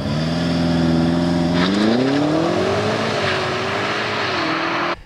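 A BMW X5 M Competition with a 4.4-litre biturbo V8 producing 625 hp revs loudly up and holds high, its deep multi-toned engine note rising and wavering steadily for about five seconds before cutting off abruptly, with no voices.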